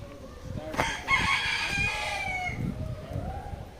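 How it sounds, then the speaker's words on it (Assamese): A jungle fowl at a zoo crows once fairly close and then clucks a few times, with faint background noise and a brief voice. "বন মুৰ্গী হয়।"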